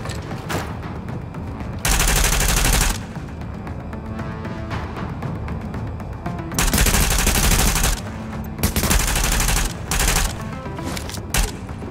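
Bursts of gunfire from the Tom Clancy's The Division video game, loud repeated volleys and rapid automatic fire with booming blasts, separated by short lulls of battle noise.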